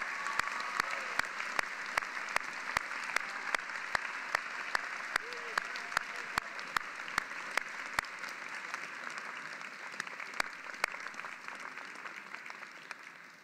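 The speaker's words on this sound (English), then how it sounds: "will you all please give her another round of applause?" A large audience at a law school commencement gives a long, even round of applause, a steady roar of many hands in a big hall with regular sharp claps cutting through.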